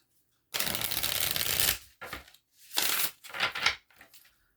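Tarot cards being shuffled: a long riffling burst, then several shorter brisk shuffles with brief gaps, close and crisp, with no talking.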